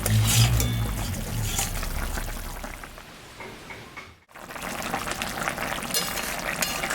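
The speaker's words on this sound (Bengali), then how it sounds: "ঝোলটা ফুটে গেছে আমি এখন মাছটা দিয়ে দিলাম" Fish curry broth with bottle gourd greens boiling in a pot, a steady close bubbling and hissing that runs throughout with a brief dropout near the middle, no talk.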